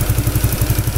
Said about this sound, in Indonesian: Sekarang RPM idlingnya aja lebih tinggi dari normalnya.